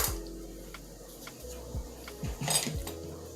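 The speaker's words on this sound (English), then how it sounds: "I'm going to go ahead and chop that up" Knife chopping two whole boiled eggs on a board for a cold salad, giving a few separate, fairly close taps and clicks with short quiet gaps between them.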